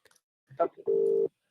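A phone rings during a Zoom meeting: a short voice sound, then one steady electronic tone that holds for about half a second and stops sharply.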